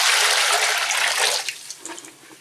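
Homemade drain cleaner is poured into a sink drain, a loud steady rush of liquid that tapers into scattered trickles and gurgles as the flow ends.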